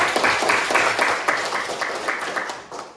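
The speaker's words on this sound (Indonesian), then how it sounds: "Coba tepuk tangan" Classroom applause from students, a brief burst of brisk, fairly rhythmic clapping by a small group, loud at first and tapering off toward the end.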